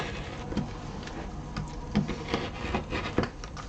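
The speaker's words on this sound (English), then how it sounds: "I'm going to go in with my rotary cutter and give it a cut." A rotary cutter slicing through fabric on a cutting mat gives soft, close rubbing and scraping strokes with a few light taps, quiet and unaccompanied.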